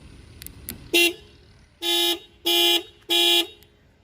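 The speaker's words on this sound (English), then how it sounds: "that's how the car starts honking and the indicators start blinking" A Tata Altroz car horn sounds in panic alarm mode: one short blast followed by three longer, evenly spaced loud honks close by, with no talking.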